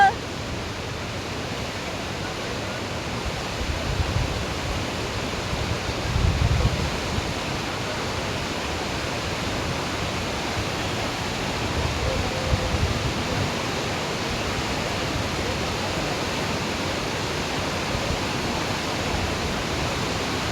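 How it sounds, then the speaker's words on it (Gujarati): Whitewater on a fast river at a Manali rafting spot roars as a loud, continuous broadband rush, with steady surging swells and no pause throughout. "પાણીનો ફોર્સ આ જગ્યા પર તો બહુ જ બધો છે."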